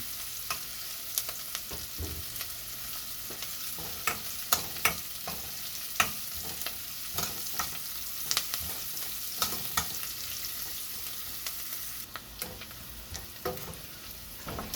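Smoked tinapa fish sautéing in a pan: a steady frying sizzle runs throughout, broken by frequent sharp clinks and scrapes of a utensil stirring against the pan, close and moderately loud with no talking.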